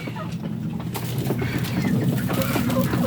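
Several chickens cluck and murmur close by in a continuous chatter, with scratchy farmyard rustling underneath, during volcanic smog.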